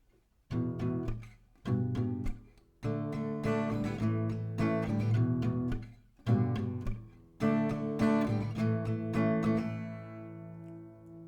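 Acoustic guitar strummed in short rhythmic bursts of chords with brief pauses between, playing the post-chorus of a song, ending on a ringing chord that fades out.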